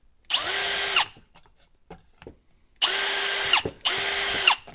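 A power drill bores holes for machine screws while building a power bank, three whining bursts, one short and two longer, close and loud with quiet pauses between.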